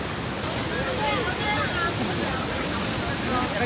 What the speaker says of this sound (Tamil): என்னுடைய லெஃப்டில் பாருங்கள் பயங்கரமான ஒரு வாட்டர் ஃபால்ஸ்